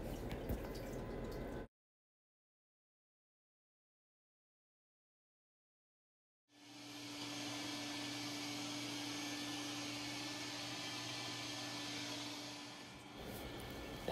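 A soot vacuum cleans out a 2,000,000 BTU commercial boiler, its steady, loud broadband roar with a low motor hum running continuously after a gap of silence, preceded by a brief burst of the same noise.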